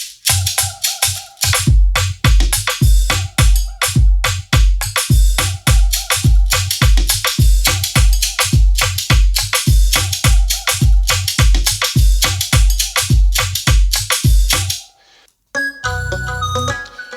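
Studio beat for an Afrobeats pop track, with drums, melody and flute layered together; a steady, loud rhythmic groove of punchy kicks and bright repeating melodic lines that cuts out briefly near the end before a softer passage resumes.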